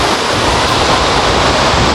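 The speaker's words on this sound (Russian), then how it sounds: "Но даже просто помочить ноги, походить по водопаду, это прям то, что необходимо." A waterfall in Georgia near Tbilisi roars as a loud, dense, unbroken rush of falling water, close and steady, with no voices over it.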